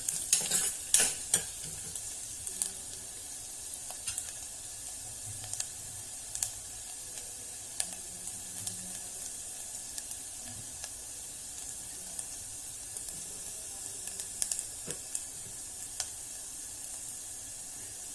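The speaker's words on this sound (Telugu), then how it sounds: "వెల్లుల్లి కొంచెం కలర్ మారే వరకు మనం ఫ్రై చేసుకుందాం." Garlic frying in oil in a pan for sweet corn soup, a steady soft sizzle broken by frequent stirring scrapes and clicks, close and alone.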